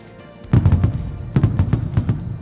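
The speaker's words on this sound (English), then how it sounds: "And lots of fireworks, which is pretty cool." Fireworks in an indie video game's level-complete animation crackle and pop in rapid clusters of sharp bursts, two quick volleys after a quiet start, close and loud with no talk.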